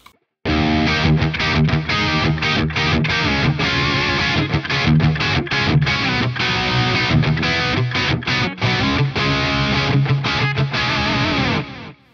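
Distorted electric guitar played through the Atomic Ampli-firebox Mark II amp modeler, loud and continuous with rhythmic chugging strums and a few short gaps, no talking over it.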